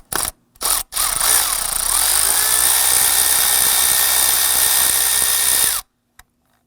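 A power tool with a deep socket and extension spins an 8mm nut off a stud on a 2015-2020 Ford F-150 2.7L V6: two short whirring bursts, then a loud, steady drill whine for about five seconds that cuts off abruptly.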